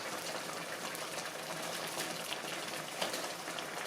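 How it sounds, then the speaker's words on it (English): A pot boiling in a Dutch oven while gravy cooks, giving a continuous close bubbling hiss with small pops and no talking. "Dutch oven's definitely boiling"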